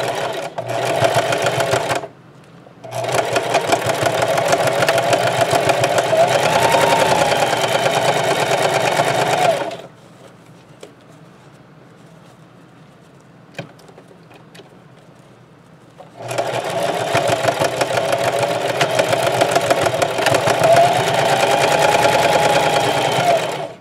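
A sewing machine stitches tote bag handles made from lemon placemats in several bursts of fast steady whirring. A short gap comes early, then a long quiet stretch with faint clicks before the stitching resumes.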